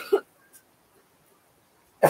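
A person coughs twice, a short harsh cough at the start and another after a quiet gap, close to the recorder with no talking between.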